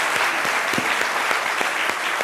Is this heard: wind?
no